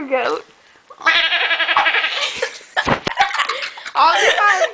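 A person imitates a goat with a long, quavering nasal bleat, and other people laugh and talk briefly around it, close and loud.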